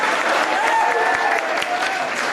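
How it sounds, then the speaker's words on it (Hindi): Brief burst of dense applause from students for a classmate at a school counselling session, steady clapping with faint voices underneath. "तालियां एक बार"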